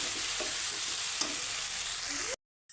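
Spice powders being stirred in a pan for tomato biryani: a constant close sizzle with soft scrapes of a spoon, ending abruptly in a short silence.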